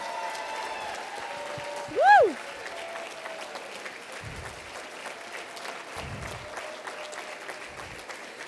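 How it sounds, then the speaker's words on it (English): A conference audience at a business breakout session claps in sustained, even applause, with one loud whooping cheer rising above it early on. "can you guys give me a huge round of applause for our Shopping Annuity ambassadors and their fastest growing business partners?"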